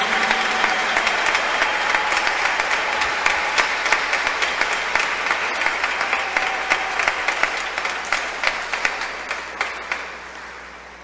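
A church audience gives sustained, steady applause after a dramatic monologue about the Virgin Mary, a dense even patter of many hands lasting several seconds and slowly thinning toward the end.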